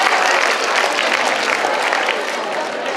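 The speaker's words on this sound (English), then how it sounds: "Give him a big round of applause." Dense, loud clapping from a crowd fills the whole moment, steady throughout with a slight easing at the end.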